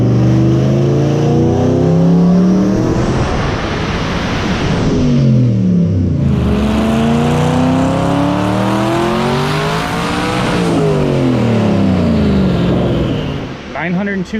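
A 1200-horsepower BMW E36 kart with big turbos roars loudly up through the gears in a street pull. Engine pitch climbs and drops with each shift, and voices shout over the noise.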